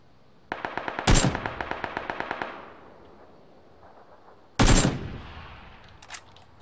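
A rapid machine-gun burst of about a dozen evenly spaced shots rattles out in PlayerUnknown's Battlegrounds, punctuated by two much louder, sharper gunshots with trailing echo, then a faint distant pop.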